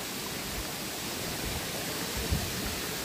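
Cenghen Falls waterfall near Lecco, Italy, a dense, steady broadband rush of falling water heard close and constant throughout.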